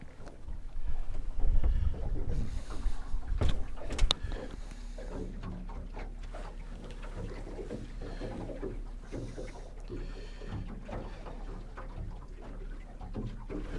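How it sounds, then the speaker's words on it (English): Wind blowing over open water on a fishing boat while trolling crankbaits for crappie: a strong rushing gust for the first few seconds, then a steady buffeting roar across the microphone. "That light and variable wind's getting stronger than light and variable"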